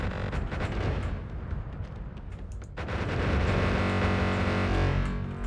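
Dense, continuous barrage of distorted explosions from a magic wand in the game Noita, blasts firing back to back so fast they merge into one loud, harsh roar that swells and stays loud throughout.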